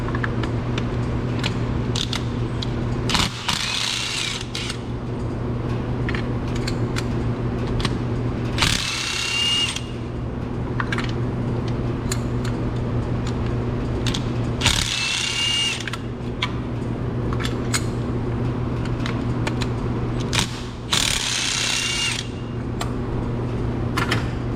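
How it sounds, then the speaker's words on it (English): Ratcheting and clicking of a 14 mm deep socket loosening spark plugs on a Nissan Rogue engine, in bursts of metallic clicks and short scraping rasps over a steady mechanical hum, close by with no talk. "to remove our spark plugs, we're going to need a deep socket 14 millimeter"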